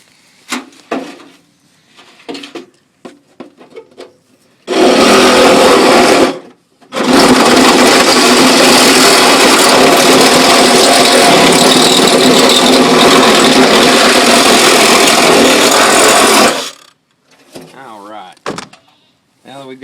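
A rainwater gutter being cut clean with a power tool, a loud close whine in a short burst, a brief pause, then about ten seconds of continuous cutting, with someone talking before and after.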